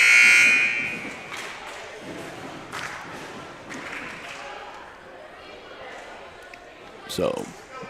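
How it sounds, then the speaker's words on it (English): A loud electronic warning buzzer blares briefly at the start of an 8th grade girls' basketball game, followed by crowd murmur and scattered thumps in a gym. "warning buzzer sounds"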